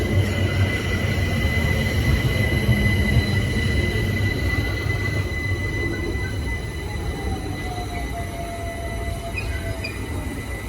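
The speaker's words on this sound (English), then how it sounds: "arriving now is the 10:37 London Overground Windrush line service to Clapham Junction" A London Overground Windrush line class 378 electric train pulls into a station, with a steady loud rumble of wheels and motors, faint wheel squeal and a high tonal whine throughout, no voices.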